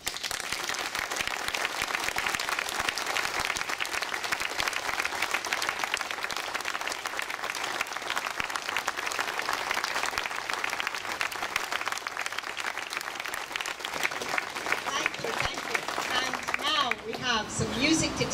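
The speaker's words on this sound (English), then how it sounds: "If I could get you to applaud for one minute" A crowd at a Greater Glasgow HOPE not hate gathering applauding for a full minute in honor of the fallen, a loud sustained wall of many hands clapping steadily, with a few voices emerging near the end.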